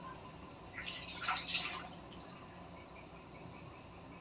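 Water runs and splashes briefly as hands are washed while cooking in a home kitchen, a soft, faint trickle lasting about a second amid quiet room tone.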